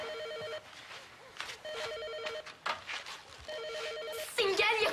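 A telephone rings in three repeated electronic bursts with gaps between them. Faint voices and shuffling sit underneath, and a louder voice breaks in at the end.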